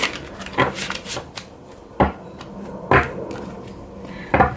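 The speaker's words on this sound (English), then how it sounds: "just a couple more shuffles" A few brisk papery riffles and snaps of cards being shuffled, spaced out and fairly close, with quiet pauses between them.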